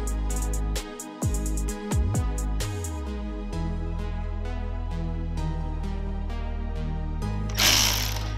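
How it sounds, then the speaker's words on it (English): A hand ratchet loosens 12 mm tensioner bolts on a Toyota 2JZ-GTE engine during cylinder head removal, giving rapid close metallic clicking in several bursts with short pauses between them. "Make sure you loosen both bolts evenly too"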